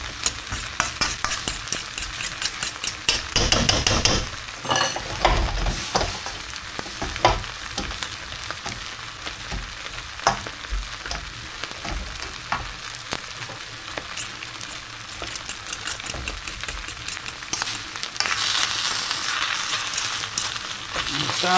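Egg frying and being stirred in a hot pan for beef and mushroom special fried rice, a steady sizzle broken by scraping and stirring strokes, loud and close throughout.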